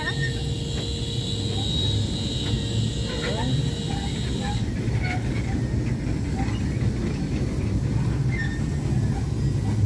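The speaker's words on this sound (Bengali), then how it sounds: "ট্রেন বাবা, ট্রেন।" A train passes with a continuous rumbling, rattling roar that stays loud throughout, with faint high tones layered over the clatter.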